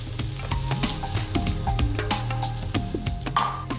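Prawns and garlic sizzle and crackle in a hot pan, with dense popping spatters and occasional stirring clinks. The sound is continuous and close, with no voices.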